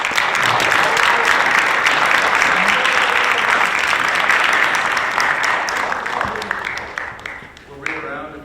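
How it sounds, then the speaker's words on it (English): A live audience gives a sustained round of applause, dense steady clapping from many hands that thins and tapers off near the end. "you guys give them another round of applause"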